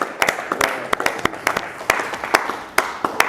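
A congregation at a French-speaking prayer service claps in sharp, separate bursts, an uneven rhythm of loud hand claps over a low murmur.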